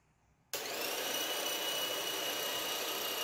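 A Presto electric grater shreds cheddar cheese, its motor starting abruptly after a half-second of quiet and then running as a steady, loud whirring drone with no talking.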